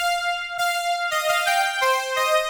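A dry Serum synth patch without reverb plays a short melodic phrase of about five distinct sustained notes, each with a clean attack, loud and close, with no talk.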